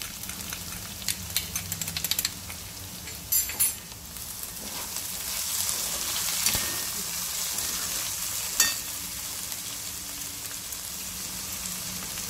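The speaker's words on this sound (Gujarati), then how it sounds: "તલ ટકરી ગયા છે." Sesame seeds crackle and sizzle in hot oil in a pan while a dal dish is being cooked, a steady close hiss dotted with sharp pops and a few louder stirring clatters.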